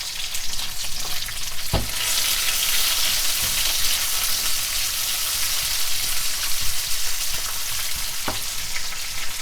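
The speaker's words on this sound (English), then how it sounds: "It's a quick saute with the onions" Steady, close sizzling of onions sautéing in a hot pan, with a couple of brief clanks of a utensil against the pan.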